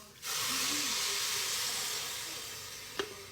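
Hot water is poured into a pot of rice for Mexican restaurant-style rice, giving a steady loud hissing sizzle that starts abruptly and slowly fades, with a brief clink near the end and no talk.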